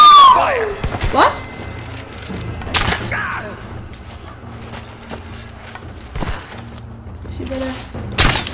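Gunfire in the video game Rise of the Tomb Raider: several scattered loud shots and thuds among game effects, with a voice speaking over part of it.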